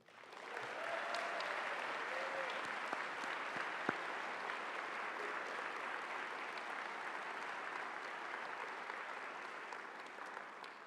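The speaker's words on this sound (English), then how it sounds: "Please give a round of applause" A convocation audience applauds as a choral director is introduced, dense sustained clapping that swells quickly and carries evenly at full strength for about ten seconds, one sharper clap standing out briefly.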